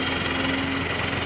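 A Mitsubishi L300 small vehicle engine, fitted with an exhaust manifold without a catalytic converter, runs in a steady, fairly loud idle with an even low rumble and no breaks throughout.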